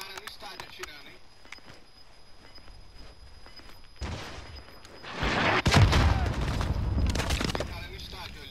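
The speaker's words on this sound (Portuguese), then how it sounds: "Tem cara no estádio atirando" Gunfire in the stadium area of a Call of Duty: Modern Warfare battle royale match, a burst of shots and booms building loud in the second half over low game ambience, with voices in the background.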